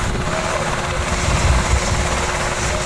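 A US military helicopter during Philippine and American marine Balikatan exercises, its steady rotor thump and engine roar filling the air continuously and loudly, with no voices over it.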